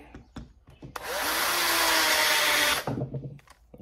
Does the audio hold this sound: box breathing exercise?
no